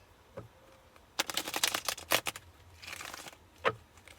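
A burst of crisp tarot card riffling and flapping, several quick papery snaps clustered together, then a softer shuffle and a final tap, close and fairly quiet.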